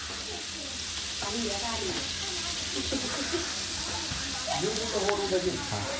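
Steady loud sizzling and crackling of whole spices, including star anise and bay leaf, frying in hot oil for biryani, with occasional stirring clatter, continuous throughout.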